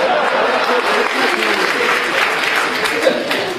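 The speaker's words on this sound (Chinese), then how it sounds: "谢谢大家雷鸣般的掌声" Dense, sustained applause from a theatre audience at a live crosstalk comedy show, a loud steady wash of clapping that continues throughout with a voice faintly underneath.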